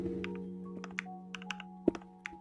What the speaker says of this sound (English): and start typing